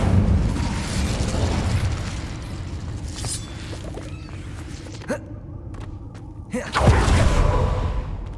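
Incendio fire spell blasts in Hogwarts Legacy, with a rumbling magical roar, a few sharp pops and cracks, and a fiery whoosh swelling near the end, all loud with no voices.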